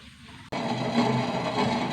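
Mixer grinder blending coconut for coconut milk, starting abruptly after a brief quiet moment and then running as a steady, loud, dense whir close by.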